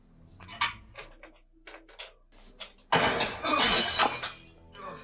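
Glass breaks and shatters in a Harry Potter film scene, with a few sharp knocks and thuds leading into a loud crashing burst of glass near the end.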